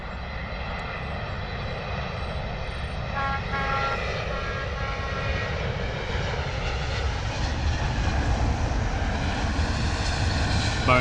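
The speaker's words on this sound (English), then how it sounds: "Boeing 777-200 British Airways" A British Airways Boeing 777-200 lands at London Heathrow Airport, its jet engines a steady, loud, broad roar that swells slightly over about eleven seconds, with no voices.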